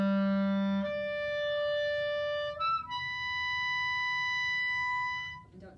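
A clarinet holds a steady sustained tone near, then shifts through a short slurred transition to a higher sustained note, solo with no accompaniment.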